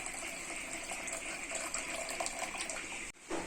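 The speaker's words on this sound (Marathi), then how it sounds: "त्यानंतर आपण ह्याच्यामध्ये पाणी टाकून याला एक वेळेला धुवून घेतो" Water pours off a bowl of washed sabudana (tapioca pearls), a steady close gushing splash that cuts off abruptly near the end.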